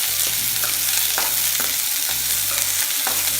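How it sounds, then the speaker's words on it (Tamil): Onions sauté in a pan for onion pachadi, giving a constant close sizzle broken by regular scraping strokes of a stirring spoon, with no voices. "வதக்கணும்."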